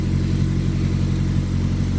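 A freshly rebuilt 25-year-old PE turbo engine idles unrevved while warming up and running very rich, a steady close, loud low-pitched rumble with an even pulsing throb throughout.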